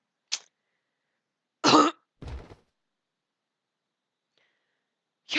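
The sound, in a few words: character coughing in Hakuoki: Edo Blossoms video game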